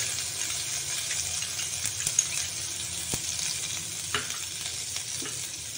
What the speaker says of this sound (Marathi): व्यवस्थित असं तळून घ्यायचं।